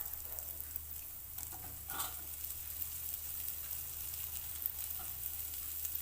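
Peanuts sizzle and crackle in hot oil in a pan while being stirred for a farali dosa filling, a steady, fairly faint frying hiss with a few soft stirring scrapes and no voices.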